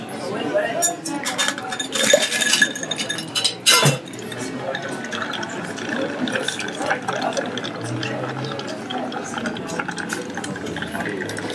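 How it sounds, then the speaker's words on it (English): A bar spoon stirs a cocktail of agave syrup over ice, giving busy clinking and rattling of ice against a mixing glass, loud and close, with a few sharper knocks early on. "So we're gonna stir this over ice."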